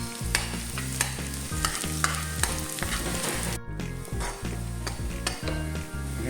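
Ginger and garlic crackle in hot oil at the start of a squid and vegetable dish, a bright continuous sizzle with spoon clicks, heard over steady rhythmic background music.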